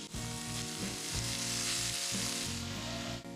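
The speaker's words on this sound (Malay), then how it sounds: "Kita potong perut babi, panaskan kuali, mula menumis." Steady, loud sizzling of pork belly frying in a wok with occasional scraping stirs, continuous hiss throughout and no voices.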